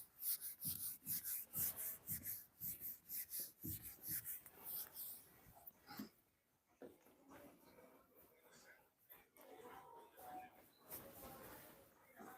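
Writing rubbed off a board by hand, a quick series of brisk rhythmic rubbing strokes close by, then softer scattered scuffs, with talk around it.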